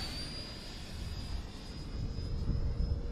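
A 64mm FMS Folland Gnat model jet at full throttle on its maiden flight, giving a steady ducted-fan rush with a thin high whine, moderately distant and building slightly in loudness.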